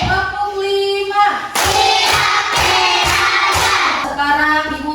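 Young schoolchildren in a classroom clap together on a teacher's count, a burst of several loud, roughly unison claps sounding close, framed by sung or chanted voices before and after.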